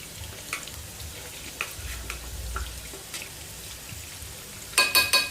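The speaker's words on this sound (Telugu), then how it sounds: "కొద్దిగా సిమ్లోనే పెట్టి వేపుకుంటున్నాను" Chicken pakoda frying in oil over low heat, a faint, soft bubbling sizzle with scattered small pops, ending in a few louder clattering knocks.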